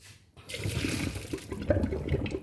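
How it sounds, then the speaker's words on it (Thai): Noodles dropped into boiling water for blanching while making stewed chicken noodle soup, giving a soft bubbling, sloshing water sound that rises after a brief pause, close and fairly quiet. "เดือดแล้วเราก็ที่นี่มาลวก เราต้องลวกเส้นก่อนเนาะ"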